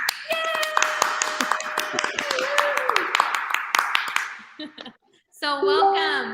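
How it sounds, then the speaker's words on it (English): A talk show's applause-button sound effect plays crisp, rapid clapping mixed with bright tonal electronic sounds. It breaks off briefly, then returns with a sustained synthetic chime. "Applause button."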